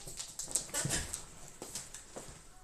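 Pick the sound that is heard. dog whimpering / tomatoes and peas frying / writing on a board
dog whimpering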